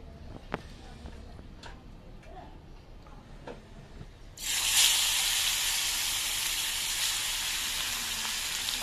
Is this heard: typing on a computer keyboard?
no